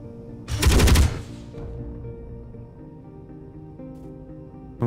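Ship weapons test firing in the Space Engineers video game, one short loud rattling burst of rapid shots up close, followed by a fading low hum.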